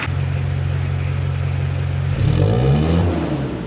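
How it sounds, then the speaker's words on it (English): A Mitsubishi 4D56 diesel engine idles with a low steady rumble, then is revved up into a rising, louder roar before settling slightly. "So let's try to rev this up."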